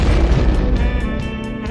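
A loud, booming explosion effect with a dense low-end blast and rumbling, crackling decay lasting over a second, heard alone without talk.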